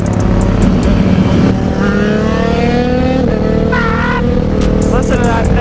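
A street bike engine revs loudly close by, its pitch climbing and falling through several throttle blips over a constant rumble, with road noise throughout.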